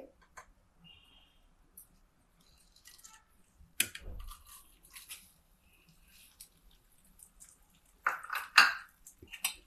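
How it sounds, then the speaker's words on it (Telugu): Flattened rice (poha) is tipped into ghee in a pan and stirred, giving faint scattered clinks and a few sharper scraping and rattling bursts against long quiet stretches. "ఇప్పుడు మళ్ళీ ఈ నెయ్యిలోనే మనము అటుకులను వేసుకోవాలండి."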